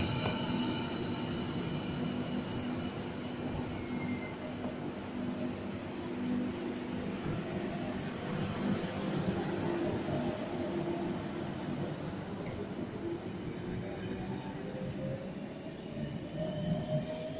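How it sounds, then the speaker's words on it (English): A Waratah electric train runs past on the up main line at a Sydney suburban station during the evening peak, a steady continuous roar of wheels and motors with faint squealing, holding level throughout with no talk. "Waratah passing on the up main"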